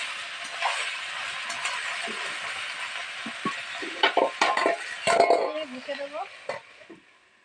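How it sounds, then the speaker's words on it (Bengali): Taro leaves fry with turmeric in a pan, a steady sizzle with stirring scrapes and clinks that grow busier and louder toward the end before fading out. "একদম সামান্য পরিমাণে হলুদ দিয়ে দেবো কিছুক্ষণ ধরে হালকা লাল লাল করে ভেজে নেবো"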